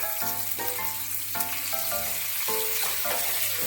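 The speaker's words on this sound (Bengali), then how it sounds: "নুন দিয়ে পেঁয়াজটাকে কিছুক্ষণ হালকা করে ভেজে নেব" Onions frying lightly in oil with a little salt in a pan give a steady, loud sizzle throughout, with no voices. Bright, tonal music plays over it.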